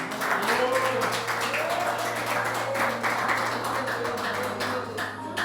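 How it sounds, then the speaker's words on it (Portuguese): A church congregation claps along joyfully during a Portuguese-language service, a dense, steady patter of many hands with a low sustained tone underneath and voices faintly mixed in. "glorificar ao Senhor com as palmas bem alegres a Jesus"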